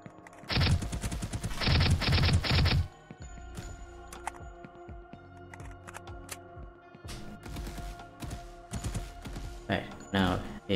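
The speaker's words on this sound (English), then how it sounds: "So here, we can shoot exactly where we want to shoot." Gunfire in an Unreal Engine 5 top-down shooter video game, with rapid bursts of repeated shots early on, then scattered single shots and short volleys near the end.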